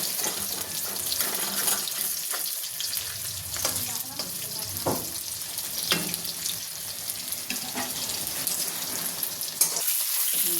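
Vegetables fry in hot oil with a constant dense hiss and crackle, punctuated by occasional utensil knocks and stirring, close and steady without talk.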